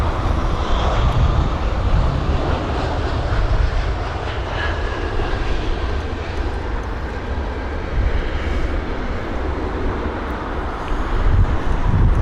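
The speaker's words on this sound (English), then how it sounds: "So there it is, the arriving jet with the A319 from Milan right behind as well." A jet airliner lands at London Heathrow in gusty wind, its engine roar a steady broadband rumble held under constant wind buffeting on the microphone for the whole stretch, with no talk.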